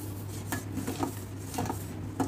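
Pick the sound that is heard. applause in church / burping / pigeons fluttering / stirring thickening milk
stirring thickening milk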